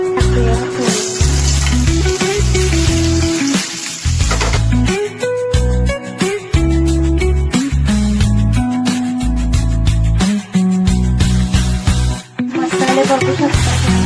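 Hot oil sizzles and crackles loudly as a spice tempering is prepared for a crab curry, with steady frying hiss broken by sharp pops, clinks and brief stirring sounds.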